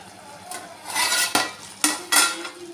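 A spoon stirring plain biryani in a cooking pot, making a few scraping, clinking strokes against the metal. No talk.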